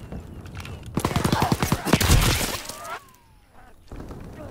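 Bursts of rapid gunfire crack loudly in a Call of Duty WWII match, a dense fusillade peaking mid-clip before dropping to quieter scattered shots and faint game noise.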